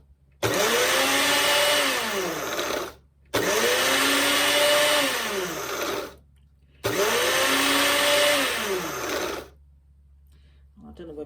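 A small liquidiser grinds food into flour in three loud, close bursts of several seconds each, the whirring motor pitch dipping then rising in each run, separated by short silences.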